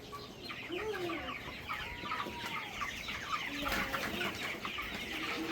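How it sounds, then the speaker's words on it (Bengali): A flock of chickens on a raised slatted-floor poultry farm clucks continuously, many overlapping soft calls forming a steady, busy murmur with no talking. "মুরগিগুলোকে লক্ষ্য করুন একদম ছড়া ছিটা আছে"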